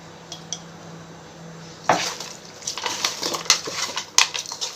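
Ghee-coated puri muri snack mixture tossed by hand in a steel bowl, with scattered close clinks and light rustling scrapes that grow busier after the first couple of seconds.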